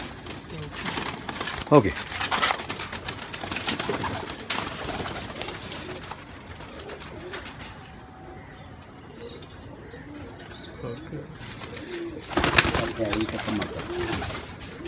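Baby pigeons of a Teddy and Kamgar cross breed cooing, soft low coos under intermittent speech from a man, with brief handling bumps and rustles.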